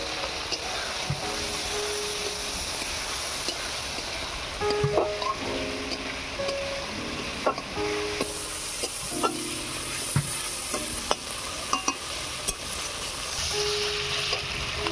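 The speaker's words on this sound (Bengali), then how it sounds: "মশলা ভালো করে কষানো হয়ে গিয়েছে" Spice masala with chili powder, chopped tomato and slit green chilies frying in a pan, a steady loud sizzle broken by repeated spatula scrapes and clinks, with faint tonal background sounds and no clear talking.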